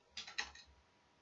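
Typing on a computer keyboard, a short cluster of three or four soft key taps close by, then quiet.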